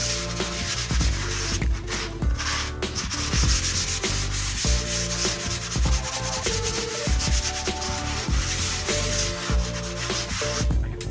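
A sanding block is worked over dried drywall mud on a bathroom wall repair, making close, rhythmic rasping strokes repeated back and forth with no talking.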